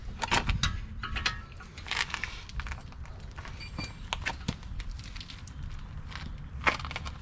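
Wrench working a suspension bolt on a BMW Z3 during shock and strut replacement, a run of close, uneven metallic clicks and scrapes with no speech.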